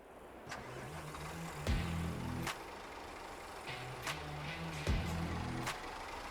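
Engine of a Spanish-brand bus in Euro Truck Simulator 2, idling with a steady low rumble and rising twice as it revs, with sharp clunks between, heard alone and fairly close.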